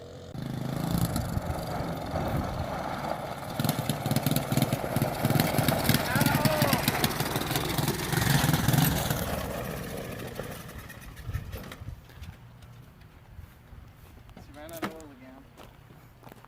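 A 1985 Honda Big Red 200M ATC three-wheeler with a swapped 200cc engine idles nearby with uneven pulsing, then fades off toward the end, while people talk over it.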